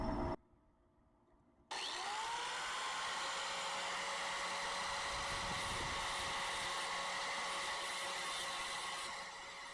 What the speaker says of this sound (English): Take my grinder.